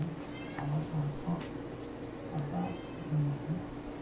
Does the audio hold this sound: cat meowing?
yes